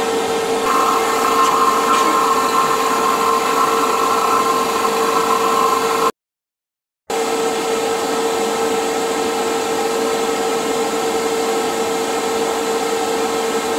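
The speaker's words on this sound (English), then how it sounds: "We're ready to start the evacuation and charging process." Vacuum pump evacuating an HVAC refrigerant line set, a loud, steady mechanical drone with a constant pitch that runs unbroken apart from a short silent gap midway.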